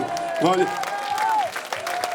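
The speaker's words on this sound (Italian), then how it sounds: "Voglio un applauso" Crowd applause at an outdoor piazza show in Jesolo, moderate and continuous, with some cheering and a voice or tone sliding through above the clapping.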